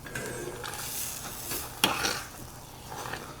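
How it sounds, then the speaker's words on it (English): Mashed potatoes being stirred together with butter, Parmesan and milk for a cottage pie: soft, close scraping and stirring in a pot, with one sharper clink of a utensil against the pan midway and no talk. "So I'm going to mix in a little bit of butter, some Parmesan cheese, and a little milk to thin it out"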